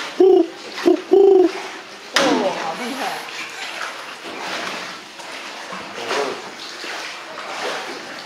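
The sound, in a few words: voice imitating an owl call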